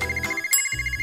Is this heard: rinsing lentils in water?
no